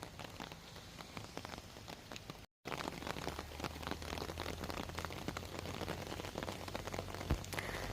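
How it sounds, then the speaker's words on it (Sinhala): Rain pattering steadily on surfaces outdoors, a dense close shower of drops with a low background rumble, and no voices. "ඉතින් මේ වෙලාවේ වැස පටන් ගත්තනේ"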